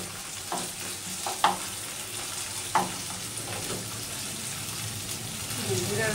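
Cumin and chopped garlic frying in a pan, a steady sizzle broken by a few sharp scrapes and clacks as the spoon stirs, close by.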